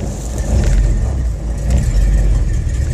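A 1954 Packard on air suspension with a rebuilt engine, mild cam and manual transmission drives down the road, its engine droning loud and steady from inside the car with slight surges, no talk.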